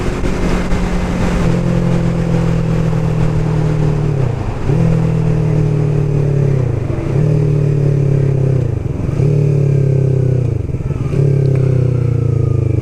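A motorcycle engine drones steadily at close range, its pitch dipping and climbing again every couple of seconds as the rider shifts gears, with no voices.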